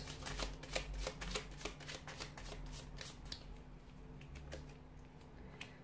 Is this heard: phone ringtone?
no